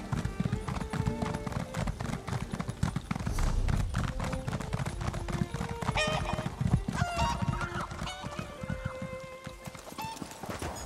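Horses in Elder Scrolls Online clip-clop steadily and neigh near a city stable mount vendor, the hooves a constant rhythmic patter under game music with a few whinnies rising above it.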